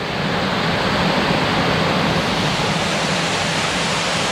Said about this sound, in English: You see all that water coming through.